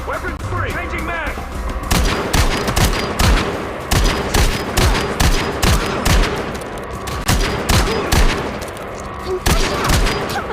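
Gunfire in the game Gangstar Mirage City, rapid loud shots in steady bursts that carry on for the whole stretch and form a dense, continuous firefight.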